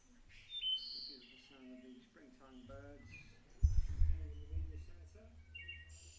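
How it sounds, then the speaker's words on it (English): Springtime birds chirping and singing outside a cricket club media centre, faint and distant behind a low rumble, with a brief louder bump partway through. "The beautiful sound of the springtime birds"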